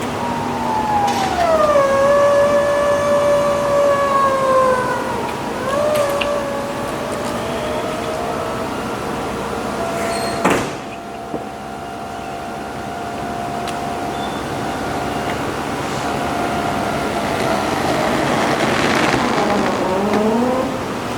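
A 1967 Pontiac Firebird factory 400 convertible's power top lowers with a steady electric motor whine that rises and falls in pitch, loud and close, with a brief clunk midway and no talking.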